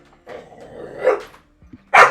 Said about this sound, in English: You need to stop barking